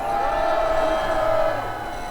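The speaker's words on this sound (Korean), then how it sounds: "박대출 의원에게도 큰 함성을 부르시기 바랍니다" A large outdoor crowd at a political rally in Gwanghwamun Square, Seoul, raises a sustained cheer, a loud blended roar of many voices that fades slightly at the end.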